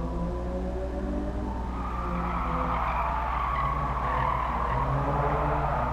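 In GT Sport, a Toyota GT86 2-litre 16V swings its rear out and the tires skid and squeal over a steady engine roar. The slide swells and fades across several seconds with no voices over it.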